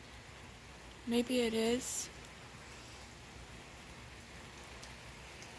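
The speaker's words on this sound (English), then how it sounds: "the rain is coming." Steady rain falling outside during a thunderstorm, a soft continuous hiss of drops throughout, while a person speaks briefly near the start.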